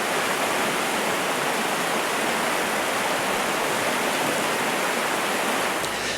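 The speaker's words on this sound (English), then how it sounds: "I can hear the high frequencies coming in and getting louder until I'm in front of the waterfall" A video game waterfall ambience roars with a loud, constant rushing hiss, dense and unbroken, with no voices.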